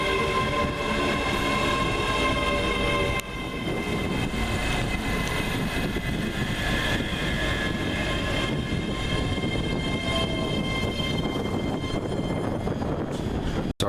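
Train 385019 passes at a Scottish station on a winter day, a sustained loud rolling roar with rhythmic wheel clatter building through the pass, and a brief sharp knock near the end.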